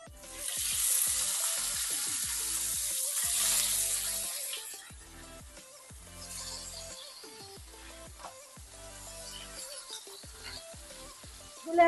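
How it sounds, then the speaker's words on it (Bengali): Pabda fish slide into hot mustard oil with dried red chilli and nigella seeds, and a close, loud sizzle rises. It eases to a softer, bubbling fry with light stirring clinks. "এবার মাছগুলো আস্তে আস্তে করে ছেড়ে দেব আমি"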